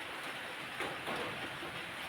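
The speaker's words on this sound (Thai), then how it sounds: "มันฝนตกแบบนี้นะครับ" Rain falls in a steady, broad hiss that runs evenly throughout at moderate loudness, with no voices heard.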